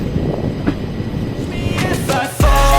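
A passenger train on the line toward Gandhidham and Bhuj runs with a steady, loud rumble and rattle, with brief clatter partway through and a heavier surge near the end.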